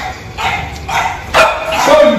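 Several dogs bark and yip in a garage kennel, loud close bursts of overlapping barks with a higher yelp, and faint voices underneath.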